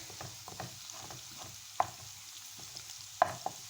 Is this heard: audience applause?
no